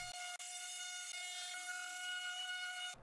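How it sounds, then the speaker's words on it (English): Steady high-pitched whine of a power sander with 80-grit sandpaper rounding wooden speaker box edges, running continuously, close and fairly loud, with a grinding, rubbing texture and no talking. "I did grab some 80 grit sandpaper in our sander"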